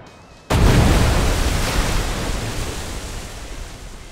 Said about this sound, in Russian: сейчас я заряжаю свой большой панцерфауст. И, значит, стреляю в